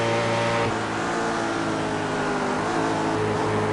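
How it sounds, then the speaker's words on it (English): A Grand-Am race car engine drones loud and steady with a high whine, its pitch shifting slightly as it revs hard on an uphill straight, with no voices. "you can hear that thing revving hard on the brakes there"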